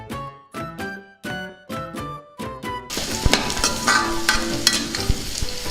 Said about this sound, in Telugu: ఇందులోనే వెల్లుల్లిపాయ రెబ్బలు వేసుకుందాం. వీటిని కాసేపు బాగా వేయించుకుందాం.